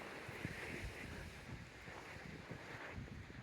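Strong mountain wind buffets the microphone in steady roaring gusts at sunrise on the Pacific Crest Trail near Tehachapi, a constant blustery rush with low thumps throughout and no voices.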